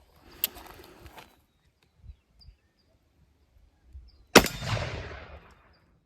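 A Remington black powder revolver loaded with 25 grains of 3F Swiss and a conical bullet fires a single sharp, loud shot with a trailing boom, preceded by faint handling noises and a brief earlier crack.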